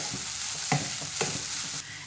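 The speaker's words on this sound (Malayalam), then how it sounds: "ഒന്ന് ഇളക്കി കൊടുക്കാം" Grated coconut being stirred with roasted cashews and raisins in a hot pan for an elanji filling, with a steady sizzle and a few sharp scraping strokes near the mic, no talk.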